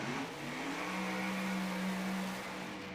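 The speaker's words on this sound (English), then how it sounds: "You could hear that the 1-2 and the 2-3 gear changes kind of stretched farther out in that car." Drag racing car accelerating hard through its gears at a PDRA drag racing event, a steady engine roar with a sustained pitch that holds, then tails off, heard from a distance and fairly faint.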